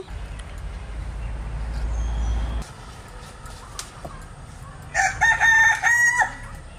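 A rooster crows loudly near the end after low rumbling and scattered clucks, with no one talking.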